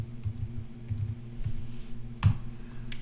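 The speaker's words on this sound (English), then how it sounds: "I could type in a formula, which is I want apples squared minus bananas" A computer keyboard being typed on in short irregular bursts of soft clicks, with one louder key strike near the end, over a low steady hum; no talking.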